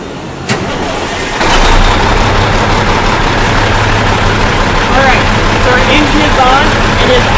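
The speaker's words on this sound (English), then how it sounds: "to do this test, we need to fire our engine off" A diesel engine cranks over and catches around the one-and-a-half-second mark, then settles into a steady, loud, rumbling idle.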